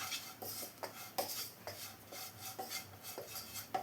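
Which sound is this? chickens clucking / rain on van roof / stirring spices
stirring spices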